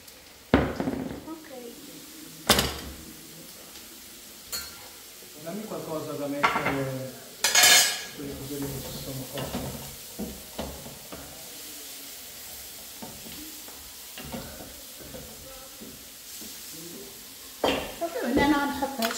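Olive oil sizzling in a pan during home cooking, with scraping stirs and metallic knocks of a utensil against the pot, close and fairly loud, a voice talking intermittently over it.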